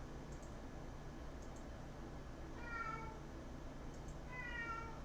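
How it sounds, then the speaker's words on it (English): A domestic cat meows twice indoors, short plaintive calls a couple of seconds apart, fairly faint over a steady background hiss. "That's my cat."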